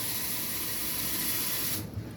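Tap water rushes steadily into a bowl of tomato seeds being rinsed, a close, even hissing stream that cuts off abruptly near the end.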